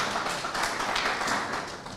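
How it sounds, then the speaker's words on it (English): An audience at a conference on African Union economic development, trade and industry gives a short burst of applause for a speaker, with many hands clapping densely before it begins to taper off. "Round of applause"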